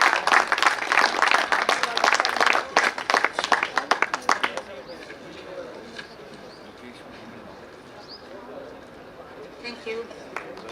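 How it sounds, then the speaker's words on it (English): Audience applause at a graduation ceremony, loud dense clapping for about five seconds that then fades out into quieter room sound. "Clap for Subhe Singh sir."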